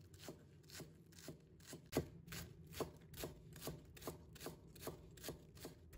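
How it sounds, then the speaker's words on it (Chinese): Green onions chopped with a kitchen knife on a cutting board, a steady series of about a dozen crisp, evenly spaced chops, close and fairly quiet with no voices. "再准备1把小葱，把它切成葱花"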